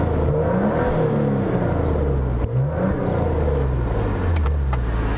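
Maserati Ghibli Q4 S twin-turbo V6 idling in sport mode, revved with quick throttle blips that rise and fall in pitch over a steady close-up engine rumble, with no one talking.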